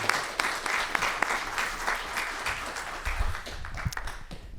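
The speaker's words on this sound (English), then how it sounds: "let's please give a warm round of applause and a warm Michigan welcome to Jeffrey Minear and Chief Judge Jeffrey Su" An audience gives lively applause welcoming speakers at a university event on the federal judiciary, a sustained patter of clapping with a few louder individual claps and thumps toward the end.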